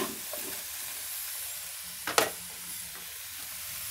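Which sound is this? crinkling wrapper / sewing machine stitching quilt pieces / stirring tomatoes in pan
stirring tomatoes in pan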